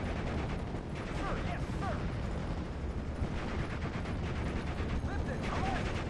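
Rifle fire and wider battle noise from the WWII strategy game Steel Division Normandy 44 roll on as a dense, continuous rumble of distant shots and explosions, with scattered sharper reports throughout.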